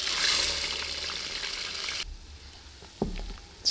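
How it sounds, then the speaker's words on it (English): Kitty litter absorbing acrylic paint wastewater gives a soft, hissing fizz like wet granules sizzling, fading after two seconds into quiet with a couple of faint clicks and taps. "It also makes this cool sizzling sound."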